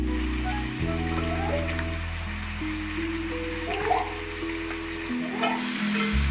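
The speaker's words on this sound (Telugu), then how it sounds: "క్లీన్ చేసి పెట్టుకున్న మాంసాన్ని వేసి బాగా ఫ్రై చేసుకోవాలి." Country chicken meat frying in a pan with tomato purée, a continuous close sizzle and crackle with faint stirring, heard under steady background music without speech.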